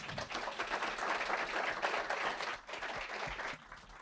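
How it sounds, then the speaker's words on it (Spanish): Audience applause after a residents' academic medical case session, a dense steady wash of many hands clapping from a mid-sized room that thins out toward the end, with no talk over it. "Un aplauso."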